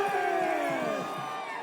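A crowd in the Corneo Cup arena of the video game Final Fantasy VII Remake cheers and shouts in a bright, continuous roar, with overlapping whoops rising over a sustained wash of noise.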